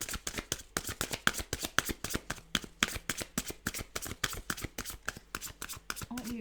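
A deck of tarot cards is shuffled close up in rapid, rhythmic riffles, a steady run of crisp flapping bursts lasting several seconds, with no talking over it.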